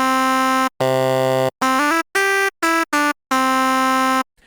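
A synthesized Pac-Man eating 'waka waka' sound recreated in FL Studio, with a bright buzzy chiptune tone in seven rapid bursts whose pitch slides up and down, loud and alone with short silent gaps.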